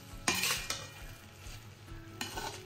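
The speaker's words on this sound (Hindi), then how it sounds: "मैं इसे मिक्स कर दूंगी" Boiled rice being mixed with salt in a pan for Schezwan fried rice, soft scraping stirs with a few sharper utensil knocks against the pan, close and fairly quiet, no voices.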